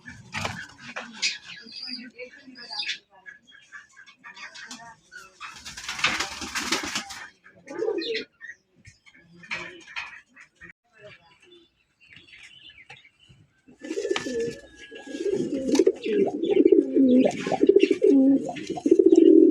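A large male pigeon coos from a cage at a pigeon market, its low rolling calls building near the end while someone talks and other birds chirp in the background.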